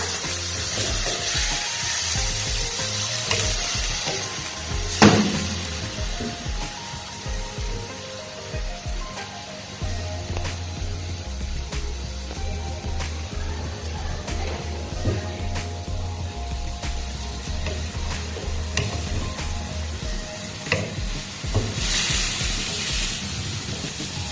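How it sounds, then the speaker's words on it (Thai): Pork belly stir-frying in a pan with a little water added, a long steady hiss and sizzle with a loud spatula clack early on and a surge of steamy spray near the end. "แล้วก็จะผัดหมูจนสุกนะคะ"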